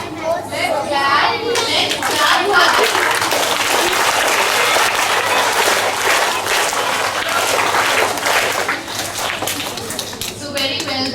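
Children and staff clap after a school assembly, a loud, sustained round of applause lasting several seconds with young voices chattering through it before it tapers off.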